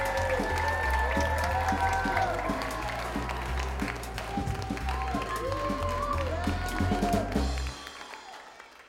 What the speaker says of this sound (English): keep that applause going for my good friend, Stephanie